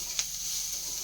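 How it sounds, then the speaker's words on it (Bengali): Eggs frying in a pan give a faint, steady hiss with one tiny pop near the start, quiet and alone with no voices. "আর এখন এই যে ভাজছি ডিম"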